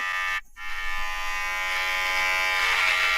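Electric hair clippers buzz steadily at a hairdresser's, a close, loud continuous whine that cuts out briefly near the start and then resumes, running unbroken to the end.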